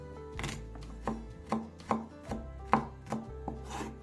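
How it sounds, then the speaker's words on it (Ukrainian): A knob of ginger is rubbed against a hand grater for chicken soup, giving about eight evenly spaced scraping strokes, close and clear with no voices. "імбир натираємо на терку"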